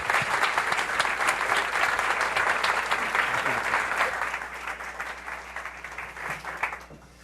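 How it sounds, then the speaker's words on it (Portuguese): Warm, loud applause from an audience at a philosophy café talk, greeting two speakers as they walk onstage. Steady dense clapping runs for about seven seconds, then thins and tapers off at the end. "Vamos recebê-los com um aplauso caloroso."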